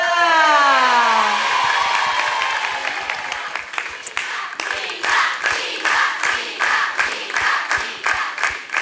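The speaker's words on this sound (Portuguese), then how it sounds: "Vocês já aplaudiram a Tatá hoje?" Studio audience on a Brazilian TV talent show claps, a sustained burst of applause fading into sharp, irregular hand claps over a loud musical sting that slides downward at the start.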